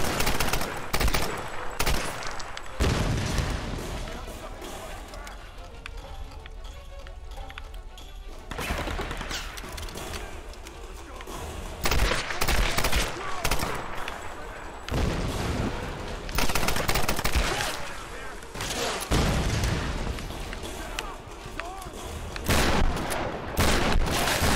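Heavy gunfire erupts in Tomb Raider 2013, dense rapid bursts and booming shots filling nearly the whole stretch, loud and close with brief lulls, over a constant din of combat noise and little talk.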